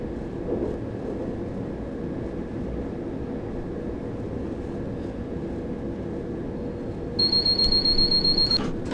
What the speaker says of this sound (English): The sound you just heard there was a vigilance device.